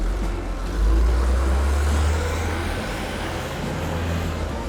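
A bus speeding along a road, its engine roaring low and steady as it accelerates, loud and close with a surge of power early on and a constant rumble of road noise.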